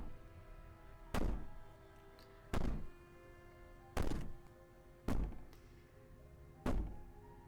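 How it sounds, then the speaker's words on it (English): Heavy banging in the video game Slay the Princess: five dull, booming thuds land at roughly even intervals over a low, quiet ambient drone. "Maybe the banging and wailing will stop if you just don't pay attention to it"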